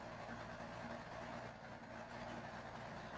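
A Cummins truck engine idles in the video game Snowrunner, a faint, low, even rumble that carries on without change.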